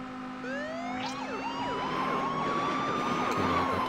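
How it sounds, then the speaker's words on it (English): Wailing sirens from a Beach Buggy Racing power-up sweep up and down in overlapping cycles over a steady engine hum, loud and continuous throughout. "Okay, I got those sirens."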